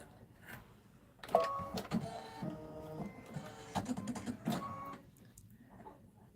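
An embroidery machine stitches out a design, giving a close, busy stretch of whirring motor tones and rapid clicking needle strikes that starts after a quiet opening and trails off near the end.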